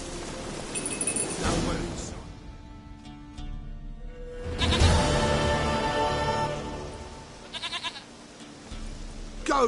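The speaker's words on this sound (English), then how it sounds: "Goat of mine, dearest, sweetest goat." A goat in The Witcher 3 gives wavering bleats over ambient game sound and music, with a voice speaking in between.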